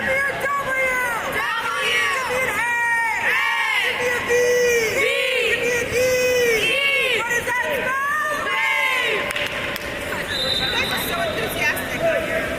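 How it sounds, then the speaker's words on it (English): A crowd cheers and shouts throughout after a goal in an 18U boys' water polo game, loud and sustained, with whoops and babble over the whole stretch. "The cheering squad is here, folks."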